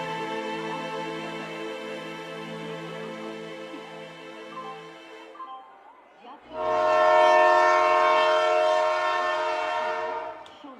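A train horn blares in two long sustained blasts, the second louder and nearer, with rumbling rail noise underneath.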